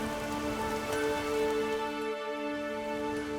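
Rain falls in The Witcher 3: Wild Hunt as a steady, even patter over a sustained tonal music drone, with no talking.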